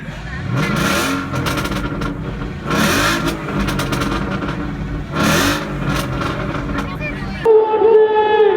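A Ford Mustang engine revs in repeated loud bursts inside a busy superbike festival hall, with crowd chatter and speech mixed through the rises and a different tonal sound cutting in near the end.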